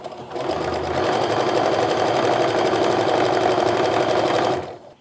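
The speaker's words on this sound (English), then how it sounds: "bring them over to the machine, and sew down just like we did" Sewing machine stitching fabric, a fast, steady mechanical whirring hum that starts abruptly, runs evenly for about four seconds at close range, then stops.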